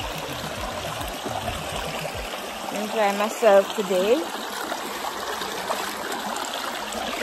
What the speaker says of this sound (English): River in my backyard.